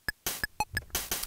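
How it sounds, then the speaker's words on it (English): A Casio VL-Tone VL-1 mini keyboard sounds its built-in rhythm: short bright electronic beeps and clicks in a quick, steady pattern, up close and alone, with no talking. "it does produce these little beep sounds like this"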